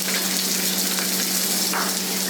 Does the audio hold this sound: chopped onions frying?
yes